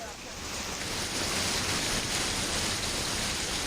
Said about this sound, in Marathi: कुर्ला परिसरामध्ये मुसळधार पाऊस बरसतोय